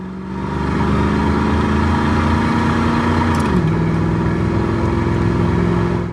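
A 1993 Ford Mustang GT 5.0 V8 with automatic transmission and factory exhaust drones loudly and steadily from close by, its pitch dipping briefly partway through as it keeps pulling under load.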